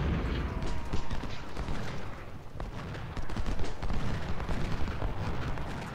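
Cannon fire and canister shot in the Ultimate General: Civil War video game rumble in a continuous barrage of booms and crackling volleys, loud and dense throughout with no speech.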